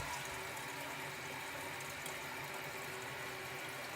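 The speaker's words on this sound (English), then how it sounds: "and then it fills back up," Water rushes steadily into a newly installed toilet tank as it refills after a flush, a continuous close hiss and gurgle of running water.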